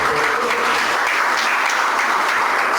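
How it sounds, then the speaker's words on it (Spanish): A church congregation applauds during a Sunday service, a dense, steady wash of clapping from many hands that fills the whole room without pause, loud and near, with no clear speech over it. "Este grupo merece un aplauso."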